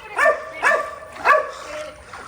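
Dogs stranded in a flooded house, lifted up to a high spot, give three close, sharp whimpering yelps at an even pace, followed by a fainter fourth.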